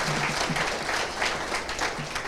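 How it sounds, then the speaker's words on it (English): Audience at a community center dedication ceremony gives a singer another round of applause, dense steady clapping with a few cheers mixed in. "Let's give her another round of applause"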